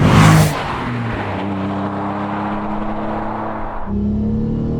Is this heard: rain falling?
no